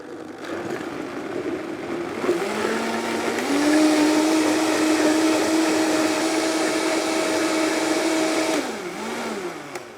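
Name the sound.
blender blending hot soup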